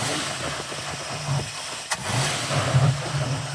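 Ford Mustang engine revving hard at full throttle, a loud, continuous mid-pitched roar close by with slight surges and one sharp click in the middle.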